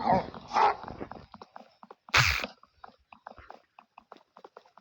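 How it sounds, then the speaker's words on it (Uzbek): A single dog bark rings out in Minecraft hardcore mode after a stretch of background chatter, followed by quieter rhythmic clip-clop-like patter and faint game-style effects. "Valla itim zo'r chiqdi"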